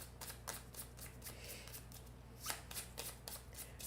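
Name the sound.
shuffling cards for board game Wondrous Creatures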